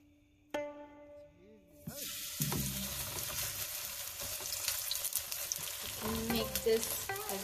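Batter for a Korean seafood pancake hitting hot oil in a frying pan, a sudden loud sizzle that settles into continuous close crackling and hissing with some stirring and scraping, following a few clanks and knocks.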